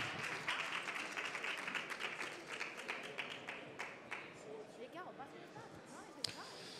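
An audience at a tech startup event claps as startup Iwoca, a short-term financing firm for small businesses, is welcomed: a steady patter of many hands in a hall, fading toward the end while a voice talks over it.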